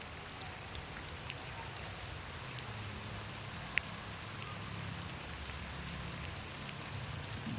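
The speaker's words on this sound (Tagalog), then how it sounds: "Yun, bumulhot na talaga yung ulan mga idol." Steady rain falls at dusk, a soft continuous patter with scattered droplet ticks and one sharper tap, heard faintly and evenly without voices.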